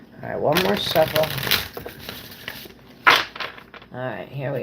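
Oracle cards riffle and slap together in a few quick shuffling bursts, crisp and close, with a voice speaking briefly between them.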